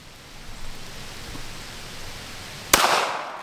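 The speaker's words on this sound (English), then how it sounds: "it's raining now, y'all. It is raining." Steady rain falls outdoors at a shooting range, making a continuous broadband hiss, with one sharp, loud gunshot cracking out near the end.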